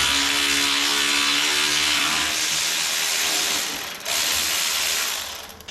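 Ratchet clicking continuously as it loosens a cross member bolt on a Polaris RZR Pro XP off-road vehicle, a fast, close, steady run of pawl clicks with one brief pause near the end.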